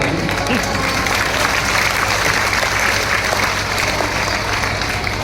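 An audience at a Ram Katha religious discourse in Varanasi claps loudly and continuously, a dense, steady wash of applause without pause.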